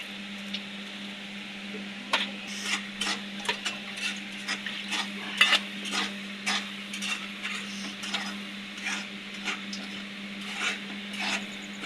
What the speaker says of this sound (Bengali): এখন মাছ চচ্চড়ি রান্না করা হচ্ছে